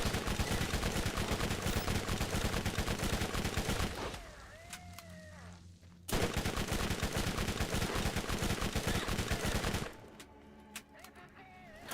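Rapid bursts of gunfire from Borderlands, a first-person shooter game, hammer away loudly in two long stretches, separated by a quieter pause with a brief rising synth tone, then the shooting resumes.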